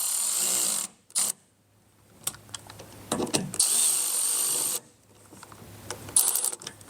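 A power tool tightens the inner mount plate screws for a mud flap kit on a 2023 or later GMC Canyon, running in several whirring bursts with short pauses and small metallic clicks between them.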